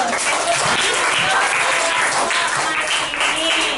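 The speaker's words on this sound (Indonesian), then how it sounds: "Tepuk tanganlah dulu" A classroom of students claps loudly and steadily in a dense, continuous burst of applause lasting a few seconds, with faint voices mixed in.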